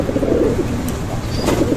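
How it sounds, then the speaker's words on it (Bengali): A male pigeon cooing on and on close by, low rolling throaty coos repeating without pause, with a couple of faint sharper sounds from the loft in the background. "দেখেন নর কিন্তু সারাক্ষণ ডাকতে ডেকেই চলতেছে, আর মাদি কিন্তু বেরোনোর চেষ্টা করতেছে।"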